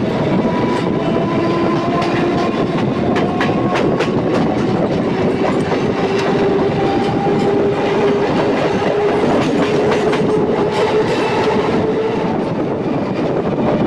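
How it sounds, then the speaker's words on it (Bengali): A Howrah to Tarakeswar EMU local train running at speed, with a loud continuous rumble, rapid clickety-clack of wheels over rail joints and faint drifting squeals, heard from inside the carriage without pause. "প্রচণ্ড গতিবেগ নিয়ে আমাদের এই ট্রেন তার মূল গন্তব্য স্টেশন, অর্থাৎ তার মূল গন্তব্য জায়গার উদ্দেশ্যে রওনা দিচ্ছে, অর্থাৎ ছুটে চলেছে।"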